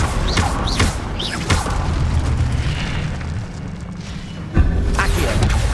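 Incendio fire spell cast in Hogwarts Legacy, a loud whooshing fiery burst with booming impacts and a sharp blast near the end, alone without talk.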